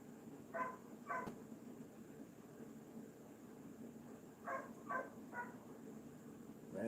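Dogs barking in the distance, two short barks near the start and then a group of three, faint against a steady background hiss.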